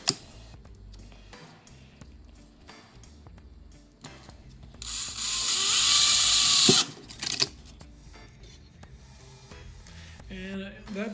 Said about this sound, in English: Now we're just drilling out the holes that I marked.